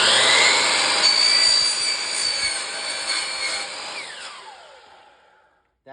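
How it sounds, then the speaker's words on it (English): A power saw cutting wood door molding, a loud, close high-pitched whine through the cut that winds down and fades as the blade spins to a stop. "make sure your hands and everything are free of the saw, obviously, and go ahead and make your cut."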